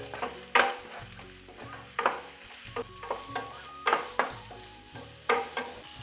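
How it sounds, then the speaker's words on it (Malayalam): Green chillies and onion, with a little garlic, are sautéed in a pan for paneer bhurji: a close, steady sizzle punctuated by repeated sharp spatula strikes and scrapes against the pan. "പിന്നെ പച്ചമുളക് സബോള അതെല്ലാം കൂടി ഇട്ട് അങ്ങോട്ട് അങ്ങോട്ട് വഴറ്റുക"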